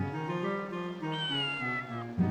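A cat meows in the video game Breath of Fire IV, one drawn-out, clear, wavering meow that is close and alone.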